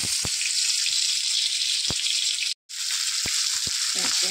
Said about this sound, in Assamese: পনীৰখিনি অকণমান ভাজি ল'ব লাগিব।